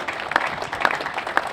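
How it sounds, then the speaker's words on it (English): An audience at the Salon Prive concours claps for the winning 1957 Ferrari 335 S Spider Scaglietti, steady applause with a few sharper claps standing out. "he should have a round of applause"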